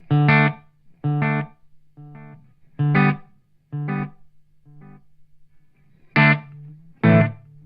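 An electric guitar plays through an EarthQuaker Devices Dispatch Master delay and reverb pedal. Eight separate plucked notes and chords ring out in an uneven rhythm, each decaying quickly over a faint sustained low tone, clear and up close.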